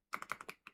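Long nails clack on a computer keyboard in a short, quick burst of about six sharp, close keystrokes, then a brief pause and one final tap.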